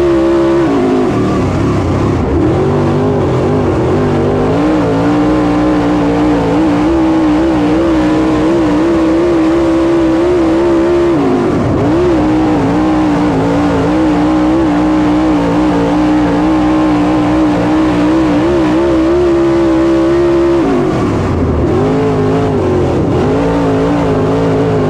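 Late model race cars roar around Lancaster's long straightaways, a loud sustained engine drone that rises and falls as cars pass and bunch side by side into the corner, with brief revving swells and no voices.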